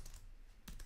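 Quick keystrokes on a computer keyboard, a few faint clicks in a brief, quiet burst with no voices.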